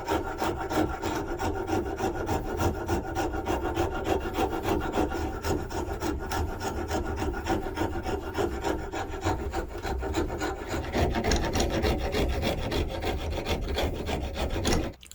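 Wooden handle scales for a Marbles Micarta Nessmuk fixed-blade knife are flattened by continuous rapid rasping or filing. The strokes are close, steady and fast, scraping through wood with no pauses.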